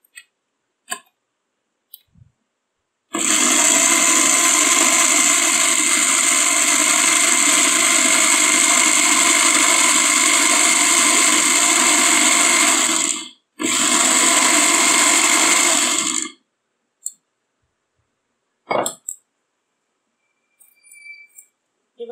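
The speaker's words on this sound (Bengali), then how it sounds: "আর 1/2 মিনিট ব্ল্যান্ড করে নেব।" An electric blender whirs loudly and steadily while blending homemade mayonnaise, running for about ten seconds, pausing briefly, then running a few seconds more before stopping, with faint clicks around it.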